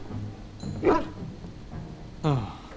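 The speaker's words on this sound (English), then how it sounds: "Hey, look, dog." A dog in the video game Dragon Age gives two short, bright barks about a second and a half apart, heard over a low, murky ambient background.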